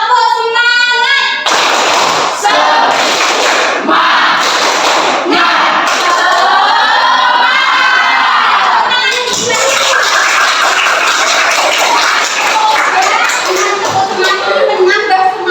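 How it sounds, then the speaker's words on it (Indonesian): Schoolchildren in a classroom perform a rhythmic spirit clap, patterned bursts of clapping and thumps mixed with loud group chanting and shouted voices throughout. "mari kita bertepuk semangat dulu. Tepuk semangat!"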